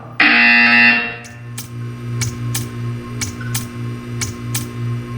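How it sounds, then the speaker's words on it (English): Harsh electronic buzzer from the video game Portal 2 sounds loudly for about a second, then gives way to a pulsing low mechanical hum punctuated by a series of sharp clicks or ticks at irregular intervals. "You will hear a buzzer."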